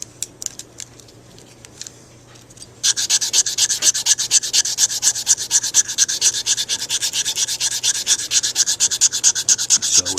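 A mouthpiece is sanded with 220-grit sandpaper: a few faint scrapes, then steady, close, rhythmic rubbing strokes that continue briskly to the end.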